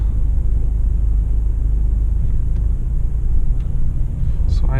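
A Mercedes G350d diesel driving in sport mode gives a steady, loud low rumble from inside the cabin, with faint chimes and a rising tone near the end.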